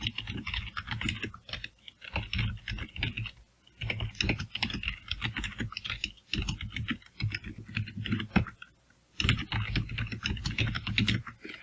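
Steady typing on a computer keyboard, rapid clicky keystrokes in bursts with short pauses, close-up and continuous, no voices.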